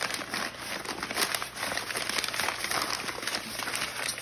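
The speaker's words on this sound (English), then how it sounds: "I'm just gonna kind of crumple it into like a snake" Material being crumpled by hand into a long snake shape for a homemade solar oven, giving a steady, close crinkling and rustling that continues without a break.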